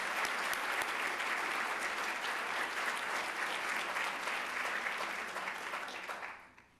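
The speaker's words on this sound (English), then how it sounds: "How about a round of applause?" Sustained, dense audience applause at an awards ceremony for excellence in teaching, a full room clapping steadily for about six seconds before fading out at the end.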